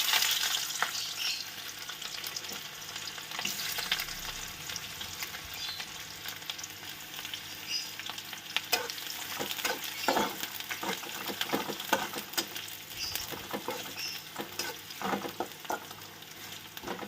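Chopped onion and whole garlic cloves fry in oil, a continuous soft sizzle with scattered crackles and occasional stirring scrapes, moderately quiet and unaccompanied by speech.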